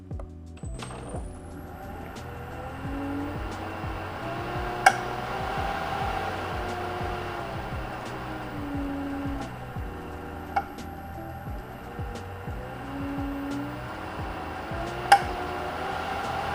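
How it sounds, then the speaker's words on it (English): Aquastar pipeline pool pump stepping its speed up by 200 RPM each second, a steady mechanical hum whose tone shifts in regular stair-step jumps, with occasional sharp clicks; no voices. "when I turn on the pump"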